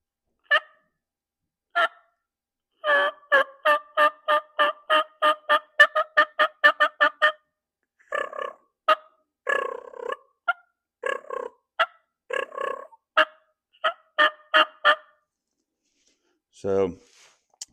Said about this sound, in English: So this works by pressing it up against the roof of your mouth. It's totally hands-free.